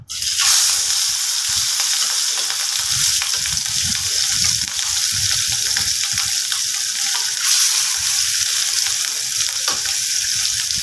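Katla fish pieces fry in smoking hot oil with a loud, continuous crackling sizzle close by that holds steady throughout, with no talking over it.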